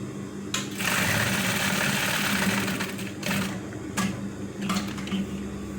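Sewing machine stitching a pocket onto trousers, a loud steady whirring run of stitching with brief pauses and restarts.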